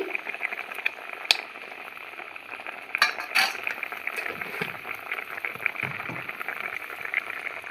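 Ghee goes into a simmering fig kofta curry, which bubbles and sizzles steadily in the pot, with a few sharp utensil clinks and scrapes close by.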